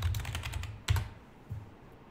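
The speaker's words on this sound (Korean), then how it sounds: "반고흐의 이미지를 쳐보겠습니다." Several quick keystrokes on a computer keyboard while entering a web search, close and crisp, a fast run of taps followed by two separate presses, with no voices.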